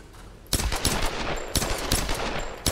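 Gunfire in the video game Tomb Raider (2013): a run of sharp, fairly loud shots, roughly five or six spaced irregularly over a few seconds against low background hum.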